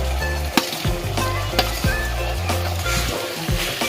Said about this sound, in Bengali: ভেন্ডিগুলো কষাচ্ছি